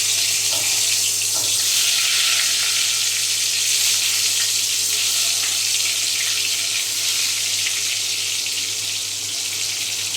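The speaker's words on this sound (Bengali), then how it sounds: "নিয়ে আস্তে আস্তে করে বেগুনগুলো ছেড়ে দিলাম।" Slices of brinjal (eggplant) go into hot oil over lowered heat, giving a loud, continuous hissing sizzle that runs unbroken for about ten seconds with no voices.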